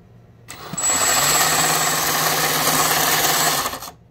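Cison L4-175 small four-cylinder engine started indoors with a brushless starter, catching quickly and running at a steady buzzing pitch for about three seconds before cutting off.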